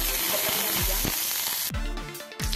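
A teaspoon of coriander seeds sizzles steadily in hot oil in a pan, a bright, continuous crackling hiss up close with no talking.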